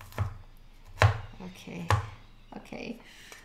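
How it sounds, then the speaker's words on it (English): A knife chops food on a cutting board for Vietnamese spring rolls, giving a few firm, uneven thuds spaced about a second apart, close by, with faint background voice. "So I'm just doing a lot of chopping here."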